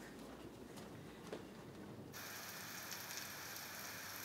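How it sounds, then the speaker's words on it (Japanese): Steady rain falls during a town festival in Tsuruta, Aomori, Japan, a soft continuous hiss of drops on surfaces, fairly faint and even throughout, with no voices. "実はこの日は鶴田町のお祭りでしたが、あいにくの雨。"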